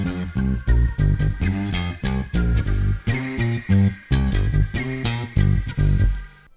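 A bass line from an FL Studio track pulses in short, punchy, chopped notes, with stepping pitch and a steady rhythm, loud and without voices.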